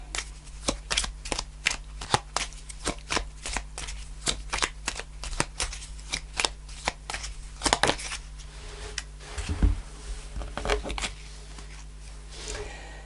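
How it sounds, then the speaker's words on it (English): Tarot cards being shuffled close by, a steady run of crisp riffling flutters and soft card slaps repeating over several seconds, with no speech. "Let's pull one more card."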